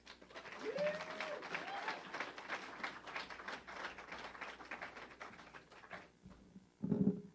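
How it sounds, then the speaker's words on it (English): Audience applause at a democracy summer program launch event, moderate steady clapping across most of the clip that thins out near the end before a brief louder burst. "Everyone, give Laura a round of applause."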